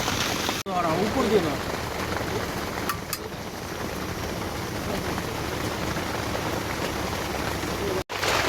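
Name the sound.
heavy rain falling during a picnic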